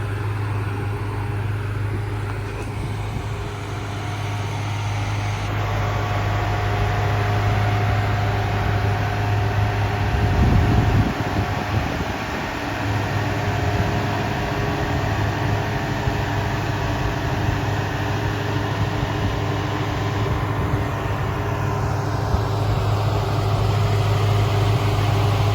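A tuned GMC Caballero idles and cruises with a steady low engine drone throughout, a brief louder surge near the middle, and a high whine running across much of the stretch; no talking.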